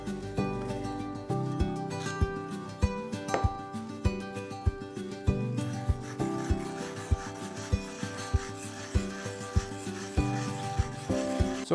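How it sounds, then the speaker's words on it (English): Steady rhythmic scraping strokes of a lead knife blade worked back and forth across a carborundum stone, close and clear, with regular sharp accents. "I've just spent time sharpening all of the lead knives using the carborundum stone"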